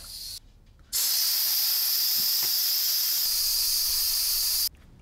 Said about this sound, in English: So I'm going to drain my tank and then go ahead with the oil change.